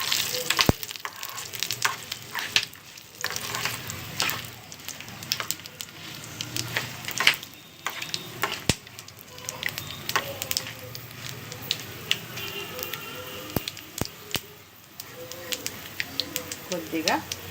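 Ingredients for Nimmakaya Pulihora lemon rice frying and sizzling in a pan, a steady crackle with scattered sharp pops and occasional stirring clinks, close by, with someone speaking at intervals over it.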